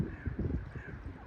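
Crows caw in Inverleith Park, Edinburgh, repeated calls rising over a steady low outdoor rumble, moderately close and fairly quiet.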